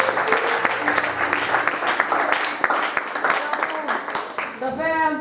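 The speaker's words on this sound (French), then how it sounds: "on acclame le Seigneur pour le frère Charcelin" A church congregation applauds continuously, dense clapping from many hands filling the room at close range, with a voice speaking over it and a short sung or called phrase near the end.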